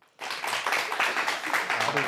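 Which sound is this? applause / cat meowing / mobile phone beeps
applause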